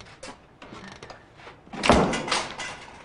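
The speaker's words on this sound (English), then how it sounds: "Please close the door." A door is pushed shut indoors with a single solid thud, near and fairly loud, preceded by faint shuffling movement and followed by a short fading tail.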